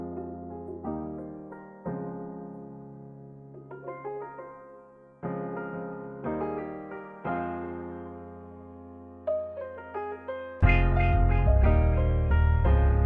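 A melodic synth and keys loop in FL Studio, with formant automation making the tone swell in for a trap-style intro. Phrases of plucked, ringing chords rise toward a fuller, louder passage near the end, fairly quiet overall with no voices.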